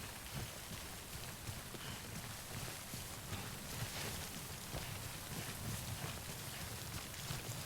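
Steady timefall rain pours down in Death Stranding, a continuous even hiss with scattered drops spattering on surfaces, alone without any talk.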